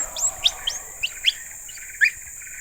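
High, thin chirping calls from a young gibbon repeat in short bursts, about six quick notes over a couple of seconds, fairly clear against a quiet background.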